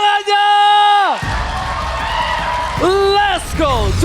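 Live esports arena crowd at a Mobile Legends match, ONIC versus RRQ, with broad cheering and clapping noise swelling after a caster's voice, sustained and loud, with more commentary talk over it toward the end.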